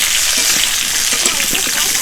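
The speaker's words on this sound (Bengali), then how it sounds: "তো দেখো আলুটা ভেজে নিয়েছি" Potato pieces fry in hot oil in a pan with a steady, close sizzle and scattered small pops and crackles, with no talk.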